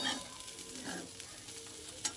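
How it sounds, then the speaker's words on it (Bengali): Bitter gourd and potato pieces fry in a pan with a steady, soft hiss of oil and occasional stirring scrapes, heard close and alone without talk. "এদিকে উচ্ছে আলু ভাজা হচ্ছে"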